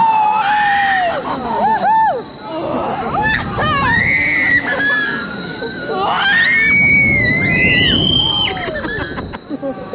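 Riders on an upside-down amusement park ride at Great Yarmouth Pleasure Beach scream loudly and continuously, high piercing shrieks overlapping with shouting and crowd noise close by.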